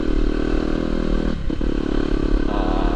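Yamaha YZ250FX dirt bike engine while riding over rocky trail, a loud close rasping drone that dips briefly mid-way, with clattering and scraping from the bike, no speech.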